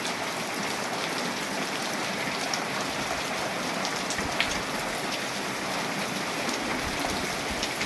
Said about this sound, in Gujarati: વરસાદ જોજો દેખો